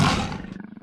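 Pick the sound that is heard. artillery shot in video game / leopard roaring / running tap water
leopard roaring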